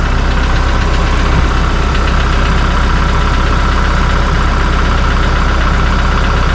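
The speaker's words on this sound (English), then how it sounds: "So she's warming up. This is the Kubota MX6000," Diesel engine of a Kubota MX6000 tractor idling while it warms up, a loud, close, steady low chugging rumble that holds an even rhythm throughout with no voices over it.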